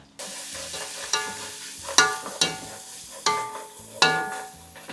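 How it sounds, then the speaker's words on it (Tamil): Masala being stirred into hot ghee for a spice-free white chicken biriyani: close, scraping spoon strokes every second or so over a steady, crackling sizzle. "இப்போ நம்ம இந்த நேரத்தில் இந்த மசாலாவை மிக்ஸ் பண்ணிப்போம் இந்த நெய்யில்"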